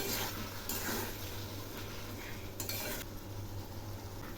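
Ground spices, including coriander powder, being stir-fried in a pan for a katla fish dish, a faint continuous sizzle with a few brief scraping strokes of a spoon, quiet and close, with no voices.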